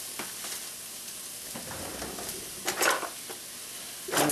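Celery, carrots and onions sweat in coconut oil in a non-stick pan, giving a steady soft sizzle with a few louder scrapes and clacks from a wooden spoon near the middle and the end.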